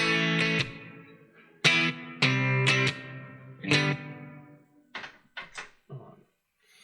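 Distorted electric guitar on the bridge pickup plays a few sustained, gritty chords with pauses between them, then some quieter muted string scrapes and short plucks.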